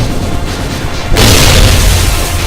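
Heavy gun blasts from a quest-reward weapon in the Blackfire video game, a loud booming shot that kicks in midway and rumbles on over steady background game noise.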